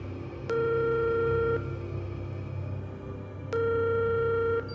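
Telephone busy signal heard during an unanswered mobile phone call: two clear steady tone bursts, each about a second long, separated by a pause over a low hum, with no voices.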